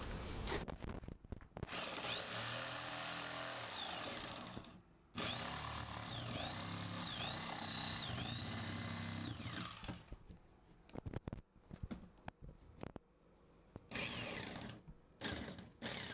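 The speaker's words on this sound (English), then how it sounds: "mark around the drain, and make the cutout with the jigsaw" A jigsaw cuts around the drain opening in a Wedi shower base for a walk-in shower, buzzing loudly and up close in long runs with its pitch rising and falling, broken by short pauses and clattering handling noises.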